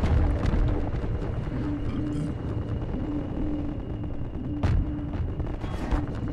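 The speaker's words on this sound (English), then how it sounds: "Ow, what's shooting me?" Enemy gunfire aimed at the player in Half-Life 2, a steady loud rattle of shots over dense game noise, with one sharper crack partway through.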